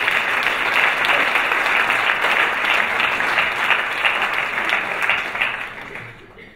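Loud, sustained applause from a church congregation at a Christmas charity Sunday service, steady clapping for about six seconds before fading out at the end.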